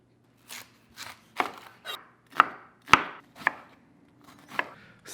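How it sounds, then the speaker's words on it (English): A knife chops an onion on a board in close, distinct strikes, about a dozen irregular thumps with short pauses between them, and no talking. "I chopped my onion up"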